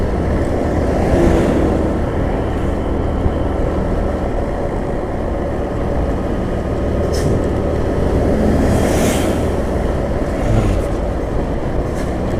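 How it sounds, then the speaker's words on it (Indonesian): A truck passing along a main inter-provincial highway through central Sumatra, near Kiliran Jao, heard as a steady, loud rumble of engine and road noise that holds throughout with no clear rise or fade. "Truk lagi"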